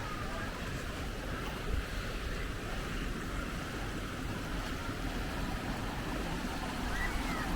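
Steady broadband wash of ocean surf beside a rock pool and rock face, continuous and moderately loud, with a faint wind rumble underneath and no distinct breaks between waves.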